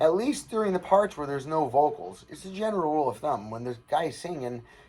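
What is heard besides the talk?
No everyday noise stands out behind the speech.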